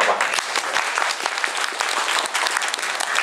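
An audience at an award ceremony breaks into dense, steady applause from many hands, loud and close, sustained throughout with a faint murmur underneath.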